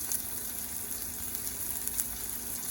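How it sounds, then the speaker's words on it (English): Ginger, garlic, onions and curry leaves sauteing in a pan give a continuous crackling sizzle at an even level throughout, with faint pops on top. "I'm going to saute it for a few minutes"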